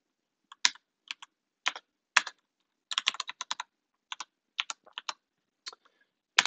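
Someone types a message on a computer keyboard, with scattered single keystrokes and short clusters of clicks in an irregular rhythm, close and crisp against near silence, with no talk.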